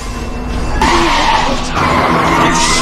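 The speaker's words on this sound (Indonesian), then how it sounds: "Dia menembak ban mobil Pak Kim hingga mobil Pak Kim oleng" A car lurches and skids after one of its tires is shot out, with loud tire squeal and engine noise swerving close by, the screech rising and shifting over a few seconds.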